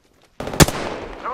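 A video game gun fires one sudden, loud, sharp burst out of near silence. A short rattling tail and ringing decay follow the shot.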